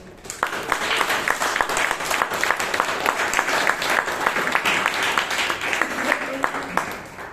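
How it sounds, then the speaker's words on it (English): Members at a Bangalore Toastmasters meeting give a lively round of applause, brisk close claps over a dense crowd wash that holds steady and then tapers at the end. "Can we give a huge round of applause to every single person who has come here on stage today?"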